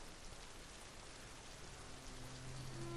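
Heavy rain pours down in an animated story, a steady, dense hiss of downpour with no break and no voices.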